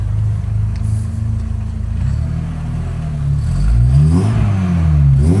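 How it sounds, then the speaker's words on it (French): A Volkswagen Golf 2 Rallye's small supercharged engine idles with a steady rumble, then revs sharply a few times, rising and falling in pitch, close and loud. "c'est un petit moteur avec un compresseur"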